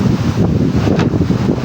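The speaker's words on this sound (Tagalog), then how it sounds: "Lakas ang hangin." Strong wind at sea before dawn buffets the microphone with a loud, continuous gusting roar over big waves, with no voices.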